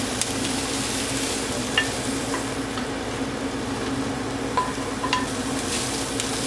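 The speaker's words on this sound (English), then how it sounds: "we're gonna stir fry these for about 3 minutes" Sesame steak is stir-fried in a hot pan, a constant loud sizzle with a low steady hum under it and a few faint clicks of the utensil.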